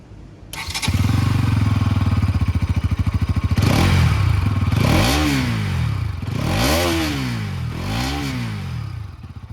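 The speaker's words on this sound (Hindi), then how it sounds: "अब सुनते हैं the exhaust note of the NS200" A 2023 Bajaj Pulsar NS200 motorcycle starts up, idles with a steady close thrum, then gets three sharp throttle blips that rise and fall in pitch, loud and up close with no talking.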